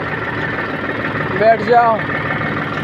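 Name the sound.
tractor engine running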